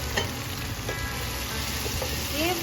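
Potatoes sizzle steadily in a hot pan as they are mixed into a tomato mixture for creamy spinach stuffed chicken, with a constant frying hiss and a few soft scraping stirs.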